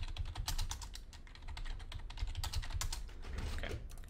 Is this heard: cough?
no